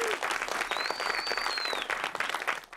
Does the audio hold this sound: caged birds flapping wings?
no